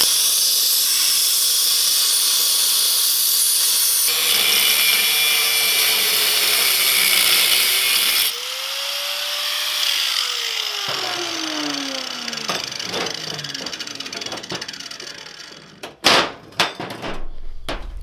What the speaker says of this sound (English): I had the plasma cutter all set up right, but it worked pretty good. I was cutting some decently thick stuff